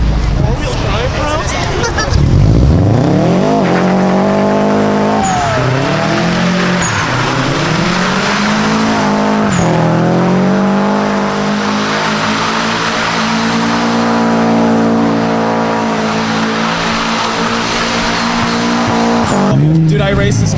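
A four-wheel-drive Subaru revs hard and skids with squealing tires at a car meet, its engine rising and falling over about twenty seconds while a crowd chatters and people talk nearby.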